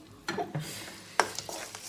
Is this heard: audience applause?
no